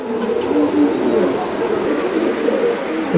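Pigeons of Lahori and Mukhi breeds in loft cages, a steady low cooing murmur from several birds close by, continuous throughout with a faint background hum.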